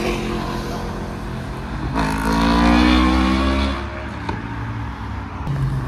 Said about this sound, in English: The white MX5 leaving.